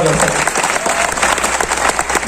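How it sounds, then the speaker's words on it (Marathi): A crowd at a Vanchit Bahujan Aghadi party-joining event claps loudly and continuously, a dense, close wall of applause with no pauses throughout. "सरफराज पठाण यांच्यासाठी विशेष टाळ्या"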